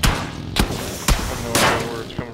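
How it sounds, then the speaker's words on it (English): Several sharp gunshots crack at the player in a video game, spaced roughly half a second apart and then a longer burst, loud and close, with a voice talking underneath. "Oh, we're getting shot at."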